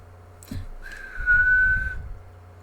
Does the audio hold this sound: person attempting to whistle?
yes